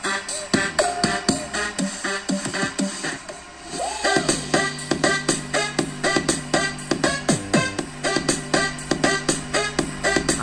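Music plays through a DIY TPA3110 class D two-channel amplifier, a steady rhythmic track with repeated beats and melodic notes, loud and clear with no talking.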